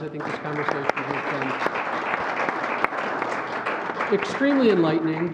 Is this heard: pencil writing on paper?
no